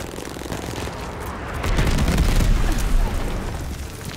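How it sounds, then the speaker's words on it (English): A glide bomb detonates in the video game Call of Duty: Vanguard, a heavy low rumbling boom that swells about midway and rolls on under dense battlefield noise. "Enemy glide bomb coming in hot!"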